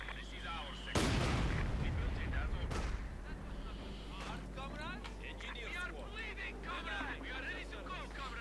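An MG42 machine gun opens fire in a Company of Heroes 2 1v1 match, a sharp loud burst followed by scattered battle noise while a commentator talks over it.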